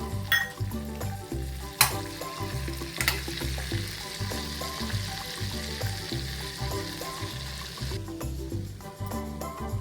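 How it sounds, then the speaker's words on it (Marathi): Hot phodni tempering poured over a leafy vegetable curry with tamarind pulp, giving a sharp burst of sizzling that settles into continuous crackling, over a steady low rhythmic background sound with no talking. "ही फोडणी आपल्याला त्याच्यावर ओतून द्यायची आहे"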